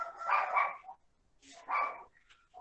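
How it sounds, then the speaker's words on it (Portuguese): Dogs barking out on a residential street, two bursts of several quick barks separated by a short pause, moderately close and clear with no talking. "Os cachorros estão latindo, as cachorros estão latindo também na minha rua."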